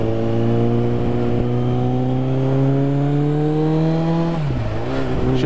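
2007 Suzuki Bandit 650 N motorcycle engine, a steady close-up hum with rising pitch that holds before dropping sharply as the revs fall near the end, alone without talk.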